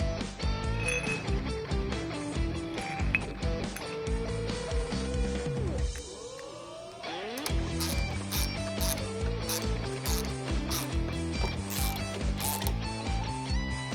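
A ratchet wrench tightens a bolt on a Harley-Davidson adapter, giving rapid runs of sharp metallic clicks up close with a short slower pause midway before the brisk clicking resumes.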